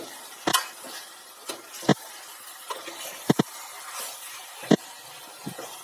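A spoon stirs chicken coated with salt, chili, turmeric, masala and ginger-garlic paste in a pan, soft sizzling under intermittent clicks and scrapes against the pan.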